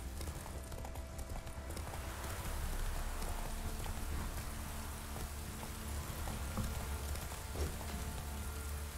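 Roach the horse gallops in The Witcher 3, with steady hoof clip-clops running without pause under a dense wash of rain and ambient game noise for the full stretch.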